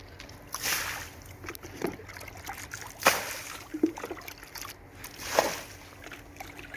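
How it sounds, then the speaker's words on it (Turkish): Mixed pool chemical poured into swimming pool water outdoors, soft splashing and trickling in uneven bursts, close but fairly quiet. "Güzel karıştırdık. Şimdi havuzun içine dökelim."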